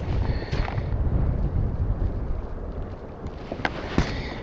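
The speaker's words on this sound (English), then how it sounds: "It's so much windier than it was, but baby. Come on, wind, please cooperate." Strong wind buffets the microphone outdoors during a fishing trip, a loud low rumbling roar that surges and eases throughout, with a few faint clicks near the end.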